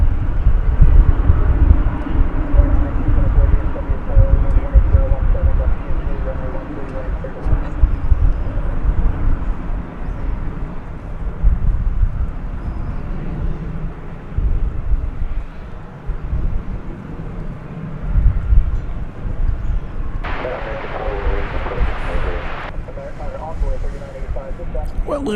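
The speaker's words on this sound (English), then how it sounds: "there's the handsome Airbus A350" An Airbus A350 jet at DFW Airport gives a loud, continuous engine roar and rumble with wind buffeting, swelling and easing over time, with speech partly over it.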